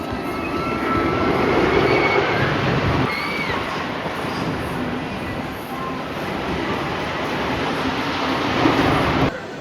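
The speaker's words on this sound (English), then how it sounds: "Predator's the first coaster we saw, so we're gonna start with Predator" The Predator roller coaster at Darien Lake roars continuously for nearly ten seconds, a loud rumbling rush of train wheels on track with wind noise and faint distant screams mixed in.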